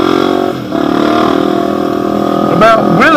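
A Honda XR250 dirt bike pulling wheelies, its engine droning steadily and close with a wavering pitch before climbing into quick rising revs near the end.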